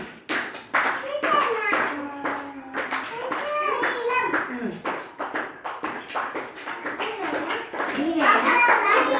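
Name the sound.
children clapping hands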